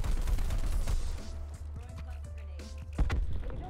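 Gunfire in Call of Duty Black Ops 4, a loud rapid burst of shots followed by sparser scattered shots and one sharp report near the end, with a voice talking over the fire.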